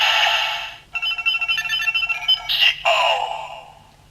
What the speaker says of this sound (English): There's your activation noise. Of course, it says the rider's name with a couple of beep boops.